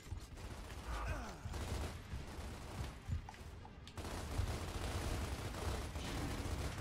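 Distant crackling gunfire in the video game Gears of War, a continuous dull clatter of shots and explosions under a steady battle din, fairly faint and unbroken throughout.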